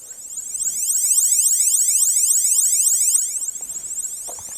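A 1989 LEGO Space Police SP Striker 6781 toy siren plays its second space sound, a loud, rapid warbling electronic tone sweeping in steady repeated chirps for about three seconds, then fading into faint room noise.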